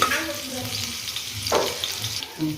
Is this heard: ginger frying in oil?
yes